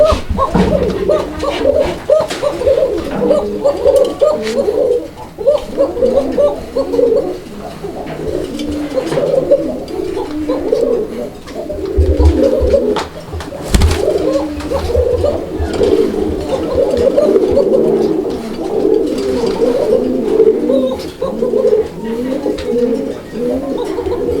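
A large, big-crested domestic pigeon coos close by, repeating soft throaty calls in an uneven rhythm with brief pauses between them.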